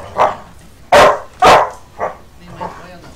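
A dog barks in a series of five short, loud barks, two of them especially strong, spaced irregularly and heard close by.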